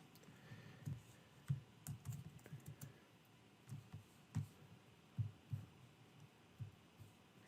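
Soft, irregular keystrokes on a computer keyboard come in uneven bursts of clicks, close and quiet, over a low room hum with no talking.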